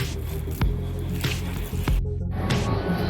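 Thick flour batter for banana flower bhajiya squelches wetly as it is mixed by hand, with soft repeated squishing and sticky slaps up close and no talk over it.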